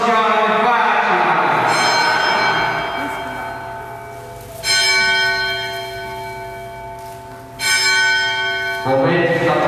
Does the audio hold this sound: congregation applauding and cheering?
no